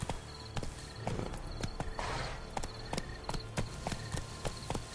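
Horse hooves clip-clop at a steady walking rhythm while riding through large gardens, each hoofbeat crisp and close, with faint background ambience.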